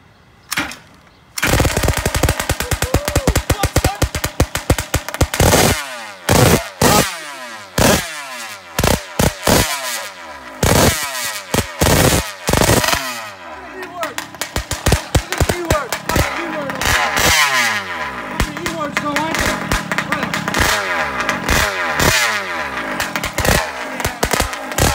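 A 50cc engine with a drag pipe on an RC dragster fires up and revs hard. Its loud, raspy exhaust rises and falls in pitch, and sharp pops crackle close by as it is blipped again and again.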